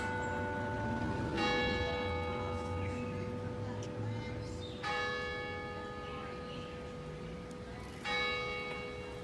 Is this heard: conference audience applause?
no